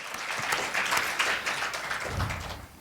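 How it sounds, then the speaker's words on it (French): A church congregation applauds Madeleine with steady, moderately loud clapping that fills the whole moment, joined by a brief low murmur near the end. "Oui, on peut l'applaudir, l'encourager."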